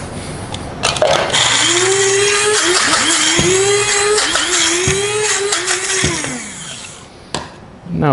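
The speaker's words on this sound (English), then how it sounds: "see if the little pieces move around in the grinder the way they're supposed to." Electric grinder pulverizing chopped garlic and ginger, a loud whirring motor whose pitch rises and dips as chunks tumble, with rattling clatter, running steadily for several seconds before winding down.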